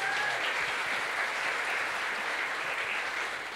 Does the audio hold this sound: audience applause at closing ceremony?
yes